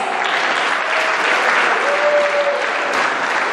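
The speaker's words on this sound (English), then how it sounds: "Give yourselves a round of applause" A wrestling crowd at a pro wrestling show applauds itself in a sustained, even wash of clapping from many people, loud and continuous, with faint crowd noise and no clear voice on top.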